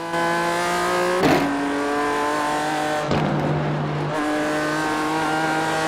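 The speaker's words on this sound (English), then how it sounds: "I'm just going to let you guys listen to this BMW for a second" A BMW race car engine in iRacing drones steadily nearby, its pitch shifting twice as gears change, with a brief rasp at each shift.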